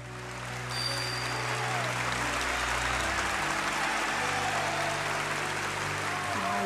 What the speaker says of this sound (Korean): 이 기립박수가 무려 12분 진행이 됐어요.